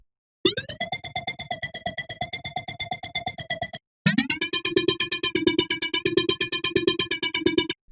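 Festo, a synth lead from an STMPD-style sample pack, plays two long phrases of bright, buzzy, harmonically rich notes that pulse in a steady rapid rhythm, the second phrase pitched lower, with a brief gap between them.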